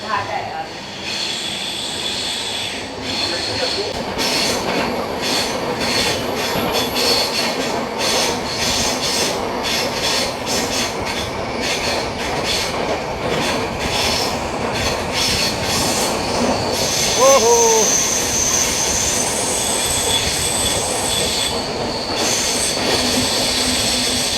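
The 12124 Deccan Queen Express travels from Pune to Mumbai with a loud, continuous rumble of wheels on rails, brief high wheel squeals and rattling carriages, sounding close and unbroken throughout.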